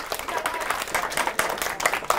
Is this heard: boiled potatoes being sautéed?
no